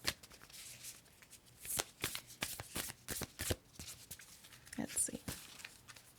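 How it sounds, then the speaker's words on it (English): Tarot cards are shuffled by hand to pull a card, giving a quick run of crisp riffling slaps and flutters, close and fairly soft, with no talk over them. "So we're going to pull one final card from the universe has your back."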